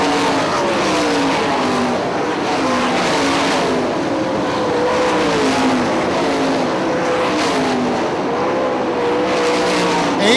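Sprint cars race around the Hartford Speedway Park oval, engines roaring loud and continuous with rising and falling pitch sweeps as cars pass and work through the turns, several machines overlapping.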